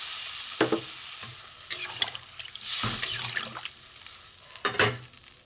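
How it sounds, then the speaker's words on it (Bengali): Water poured into a cooking pot of spiced fish curry with potatoes for boiling, giving a near, splashing liquid rush over stirring and a soft sizzle, with short scraping bursts in between. "জল দেবো, আলুটা সেদ্ধ হোক।"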